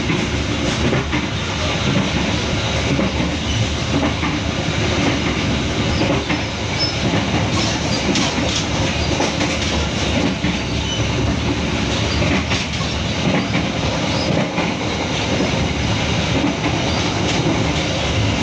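Riding aboard a train on the Madiun to Babadan line in Indonesia, wheels clack over rail joints beneath a constant loud rolling rumble and hiss that lasts throughout, with no voices.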